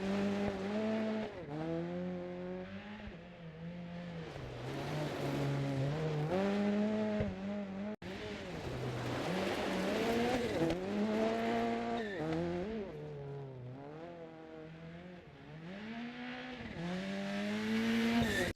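A rally car on slick, worn tyres in the DiRT Rally 2.0 video game, its engine revving up and down continuously through gear changes with a brief break midway, loud and close.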